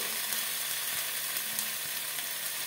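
Spices with chopped tomato, vegetables and peas frying in a pan, a steady close hissing sizzle with faint clinks of stirring, continuous and alone.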